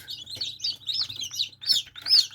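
Newly hatched black, white, blue and yellow chicks in a Teplusha Lux 72 incubator, some hatched from green eggs, give repeated high, thin peeping chirps in quick overlapping bursts, close and fairly loud, with no talking.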